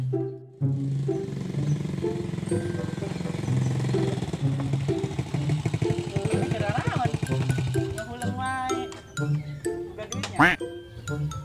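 A new motorcycle's engine idles with a low, steady rumble while people talk over it, with some clinking and revving toward the end.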